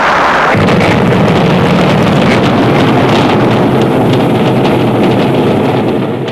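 A Redstone rocket carrying Shepard lifts off with a sudden loud blast that swells into a sustained, roaring rumble, thick with buffeting wind noise and heavy low-end thunder, staying loud throughout.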